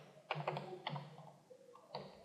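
Keystrokes on a computer keyboard, a few quick taps in short bursts, fairly close and moderate in level over faint room tone.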